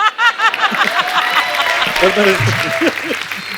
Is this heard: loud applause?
yes